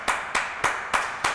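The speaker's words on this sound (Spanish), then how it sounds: "aplausos" Applause from a studio audience at an interview show, heard as five separate, evenly spaced sharp claps rather than a full sustained ovation, moderately loud with no talking.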